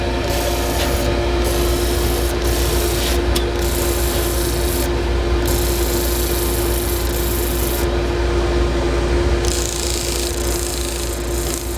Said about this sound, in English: This is just the second stage sandpaper.